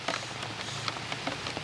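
Steady rain falling outdoors, a dense close patter of drops striking surfaces with a constant hiss and scattered louder splashes.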